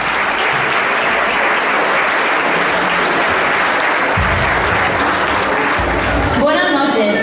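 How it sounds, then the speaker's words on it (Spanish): Festival crowd at a village queen-coronation ceremony in El Picazo gives Rocío loud, sustained applause, many hands clapping continuously for several seconds, fading near the end. "un fuerte aplauso para Rocío."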